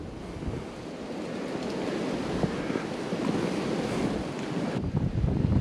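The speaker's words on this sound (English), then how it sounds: "Boy, it's really blowing out here." Strong wind gusting hard outdoors in light snow, a loud, steady roaring rush that swells and buffets the microphone throughout, with no voices.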